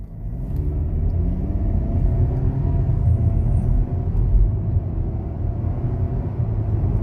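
A Chevrolet Equinox LT Turbo Redline Edition with 14K miles rolls along, heard from inside the cabin as a steady, close, low engine and road rumble that stays even throughout, with no talking.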